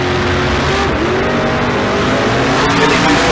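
Super Pro door cars at a drag strip, a Lumina and a Corvette, roar loudly and steadily with dense engine noise and shifting tones throughout, no talk.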